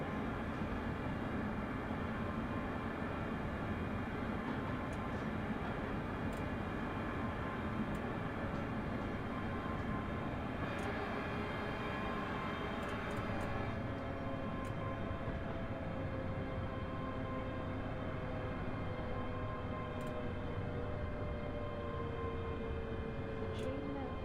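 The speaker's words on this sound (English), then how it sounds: "The train now approaching platform 2 is for Glasgow Queensland" A late-night train on the Glasgow to Dunblane line approaches the platform with a steady, heavy rumble and rising mechanical drone that builds over time, with a faint high whine and a few clanks.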